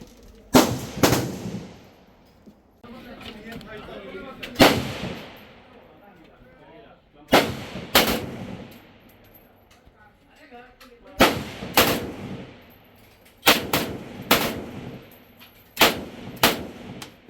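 Gunfire at the Cu Chi tunnels shooting range in Vietnam, heard as sharp, loud single shots and pairs of shots at irregular intervals, each with a trailing echo, and a busy ambient wash between them.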